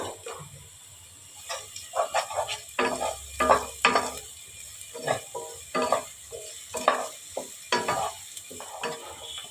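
A spoon stirs sugar into hot oil in a pan for restaurant-style chicken maharani, giving a steady sizzle broken by repeated scraping strokes in an irregular rhythm, close and fairly clear with no talking.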